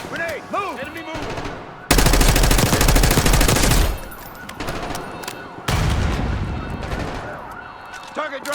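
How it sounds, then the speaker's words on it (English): Rapid automatic gunfire and blasts in the Black Ops 6 campaign, two loud sustained bursts of dense shooting separated by a brief lull, with shouted voices and whooshing effects at the start. "Grenade! Move!"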